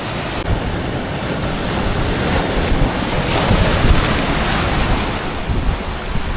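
Sea waves wash continuously onto the Maltese coast in a loud, broad roar with strong wind noise over it and no voices.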